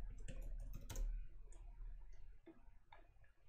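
Soft, sparse clicks of typing on a computer keyboard, a short burst of keystrokes followed by a few scattered taps, faint and close over a quiet low hum.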